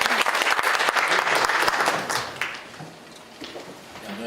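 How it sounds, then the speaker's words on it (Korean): Audience applause at a lecture, a dense burst of clapping that fades away over a few seconds into scattered claps. "박수 부탁드립니다"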